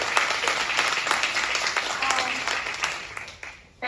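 Middle school winter concert audience applauding the students, a dense crowd clapping steadily and loudly for several seconds before trailing off near the end.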